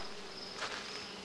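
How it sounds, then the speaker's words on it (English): Bees flying around a food forest in Minnesota give a continuous soft buzzing hum, faint and steady, with one insect drifting slightly nearer midway and no voices. "Bees are flying everywhere."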